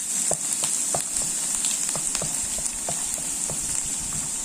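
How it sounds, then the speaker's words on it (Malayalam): Garlic sautés in hot coconut oil. A soft, even sizzle runs throughout, with small crackles and pops scattered in a loose rhythm. No voices are heard. "വെളിച്ചെണ്ണ ചൂടായി നമുക്കിനി വെളുത്തുള്ളി ഇതിനകത്തോട്ട് ഇടാം ഇട്ട് ഒരു ഒന്ന് വഴറ്റി"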